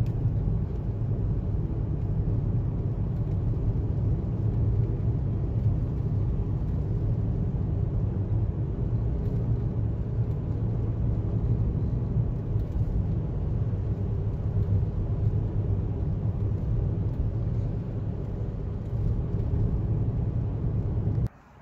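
Steady low road rumble and engine drone from a 2006 Volkswagen Jetta TDI diesel on the move, continuous and even for the whole stretch with no talking.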